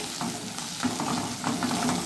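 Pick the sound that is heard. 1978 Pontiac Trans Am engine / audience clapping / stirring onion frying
stirring onion frying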